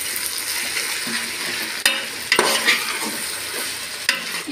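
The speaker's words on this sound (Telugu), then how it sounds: "కొత్తిమీర వేసిన తర్వాత ఒకసారి బాగా కలిపేసుకున్నాం." Vegetable biryani with fresh coriander being stirred in a pot, a steady soft sizzle with scraping spoon strokes and a few sharper knocks against the pot, no voices.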